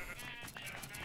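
Sheep bleating in a video game, several close, wavering bleats repeating through the second over steady game background noise.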